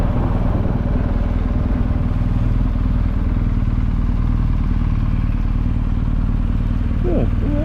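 BMW GS motorcycles, a couple of them, on a fall colours ride with a steady engine rumble and mechanical clatter throughout, loud and close, with people talking over it.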